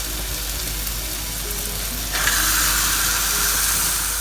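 Washed rabbit meat dropped into a pan of hot oil and tomato for a Kerala-style roast, with a steady sizzle that suddenly grows louder and brighter as the meat hits the pan, then continues evenly.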